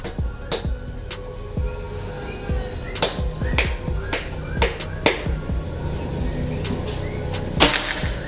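PCP air rifle firing, a sharp crack standing out among repeated snappy transients, close and loud over outdoor background noise with a few faint voices.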